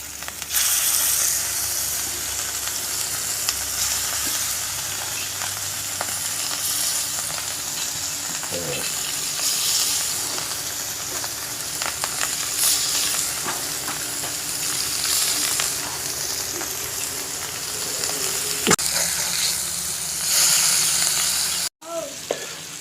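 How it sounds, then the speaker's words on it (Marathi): Surmai (kingfish) pieces frying in hot oil on a tawa in a Konkan kitchen, a constant close, hissing sizzle with bubbling crackle and a few soft clinks throughout. "तेल आपलं छान तापलेलं आहे आता आपण एक एक करत याच्यावर हा पीस ठेवून घेणार आहोत"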